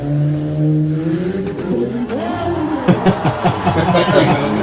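Old car that failed a smog check revving its engine and driving past on a hill street, a loud rising roar that grows closer, with people talking nearby.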